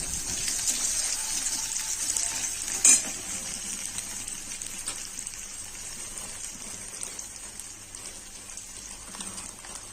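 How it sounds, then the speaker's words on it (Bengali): Onion frying in oil with cumin seeds and dried red chili for a kochu shak (taro leaf) dish, a steady broad sizzle with occasional stirring scrapes and one sharper clatter early on, close and continuous with no talk. "পেঁয়াজটা দিয়ে দেবো, ভাজা হয়ে যাবে, দিয়ে আমি ভেজে নেবো।"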